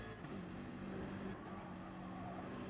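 Touring race cars on a circuit, a BMW and a Subaru among them, heading into the Schumacher S, heard as a steady engine drone with a pitch shift partway through, fairly faint with no speech.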